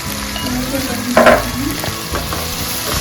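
Dried fish cooking with tomato, onion and turmeric in a pan for a dried fish and taro tamarind stew, giving a steady close frying sizzle with stirring and a brief louder scrape near the middle, no talking.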